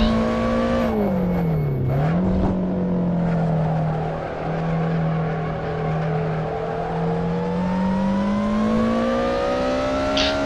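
Race car engine in Assetto Corsa droning steadily through a lap, pitch dipping briefly after a shift near the start, then holding a loud sustained whine with slow rises, alone without talk.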